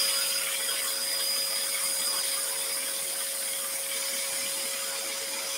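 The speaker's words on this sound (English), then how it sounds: "these scroll saws, really they're meant for cutting really tight curves and things like that" Scroll saw blade steadily cutting a wooden shelf blank, a continuous even buzzing whine with a constant high tone throughout, close and fairly loud with no talking.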